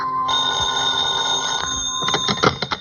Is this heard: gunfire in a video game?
no